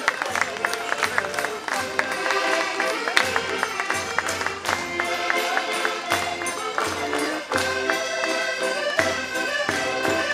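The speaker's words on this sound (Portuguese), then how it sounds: "Podem acompanhar os grupos com aplausos" Audience at the opening ceremony of a folk festival in Barcelos, Portugal, applauding folk dance groups, steady dense clapping blended with loud music throughout.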